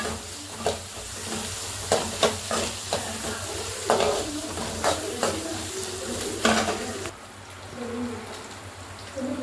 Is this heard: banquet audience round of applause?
no